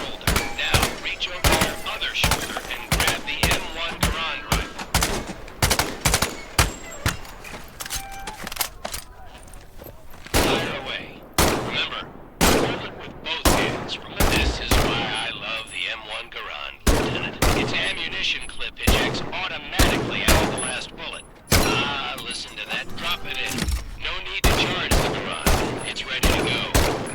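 Rapid, dense bursts of gunfire crack across a Medal of Honor: Above and Beyond VR World War II battle, many loud shots stacking into a continuous fusillade with faint voices underneath.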